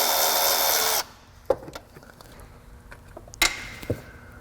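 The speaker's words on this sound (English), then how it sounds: "This is a self-tapping screw that I'm gonna try to run down in here" A power drill runs at high speed for about a second, then comes sharp clicks and short bursts as a self-tapping screw is driven into a plastic engine part on a 2005 Honda Odyssey.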